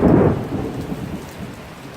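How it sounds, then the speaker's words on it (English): Heavy rain pours down with a deep, loud thunder rumble at the start that eases into a steady, dense downpour. No voices. "it's just started to rain crazy"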